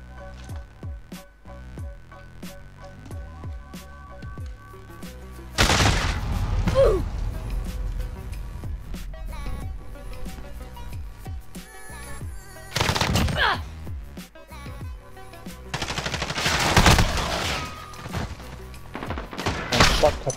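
M4 rifle fire in a Search and Destroy round of a shooter video game, bursts of rapid gunshots and crashing impacts recurring over a steady game soundtrack with occasional clicks.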